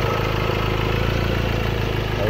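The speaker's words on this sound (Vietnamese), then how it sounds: "máy nổ lên to, tròn" A Mazda BT-50 2.2 pickup's diesel engine idles with a steady, even low rumble and a faint rhythmic throb that runs unbroken for the whole stretch.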